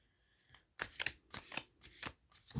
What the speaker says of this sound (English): that's called overhand shuffling